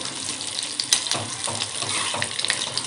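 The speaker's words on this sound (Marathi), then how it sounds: "छान असे आपल्याला आता हे खरपूस रंगावर तळून घ्यायचे आहेत" Roll samosas deep-frying in hot oil, a dense, bright bubbling sizzle with a few sharper pops, close and continuous for a few seconds, with no speech.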